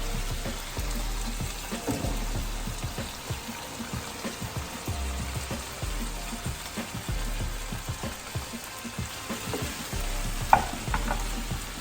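Zucchini stirred into simmering tomatoes, onions and garlic for a zucchini and shrimp pasta gives a low bubbling simmer with repeated soft stirring scrapes and one brief sharp knock near the end.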